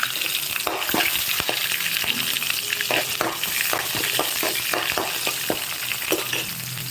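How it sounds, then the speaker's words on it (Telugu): Green chilies frying in a pan for tomato bath, a loud, dense, continuous sizzle with frequent crackles and spatters, close up and without talk. "ఇదిగోండి పచ్చిమిరపకాయలు వేసుకున్నాం"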